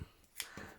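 A single quick snip of scissors cutting paper for a junk journal, close and faint, over a quiet room.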